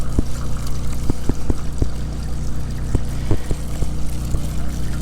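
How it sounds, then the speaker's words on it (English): Water pouring from an upturned bottle into an RV's fresh water tank at a campground, a steady continuous gush with a low hollow rumble and occasional glugs and knocks, fairly loud and alone. "we're getting water into our fresh tank"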